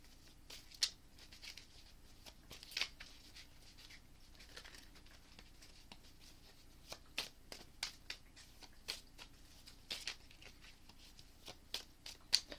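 Crystal oracle cards being shuffled and pulled, a soft papery patter with scattered light flicks and taps, close and fairly quiet with no talking.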